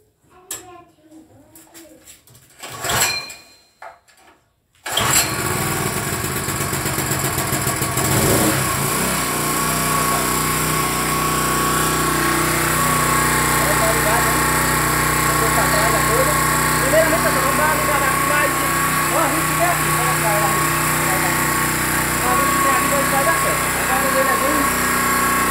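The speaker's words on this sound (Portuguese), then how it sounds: "Daí agora vamos ligar a chave, na hora da partida." A four-stroke gasoline generator is switched on and cranked, then catches and settles into a loud, steady running drone that continues to the end, after a few seconds of handling noises and a brief voice at the start.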